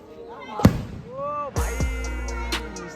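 Diwali firecrackers go off close by in a few sharp, sudden bangs with ringing tails. Excited voices talk and shout over and between the blasts.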